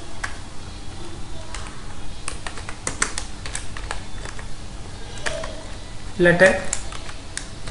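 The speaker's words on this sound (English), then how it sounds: "Now I type, this is my" Typing on a computer keyboard while writing a LaTeX document, with scattered, quiet key clicks heard under a voice speaking.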